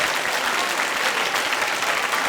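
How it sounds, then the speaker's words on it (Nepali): Loud, sustained applause from a studio audience at a televised comedy competition, a dense steady clatter of many hands clapping with no gaps throughout. "एकपटक जोरदार ताली बजाइदिनुहोस्"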